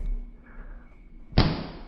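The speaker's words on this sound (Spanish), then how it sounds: "Oigo ruido en la puerta, como si forcejeara en ella un cuerpo inmenso y resbaladizo." A single heavy thump against a door lands near the end, a sharp loud impact after a quiet, low-humming stretch, like a large body striking it once.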